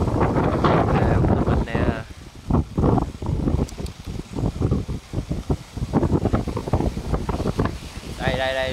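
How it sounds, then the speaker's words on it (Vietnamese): Strong wind gusts roar over a lake with rough, river-like waves, a loud continuous rush buffeting the microphone while people talk excitedly over it. "Đây một cơn gió lớn nè, coi lèo ai đụng trước nha."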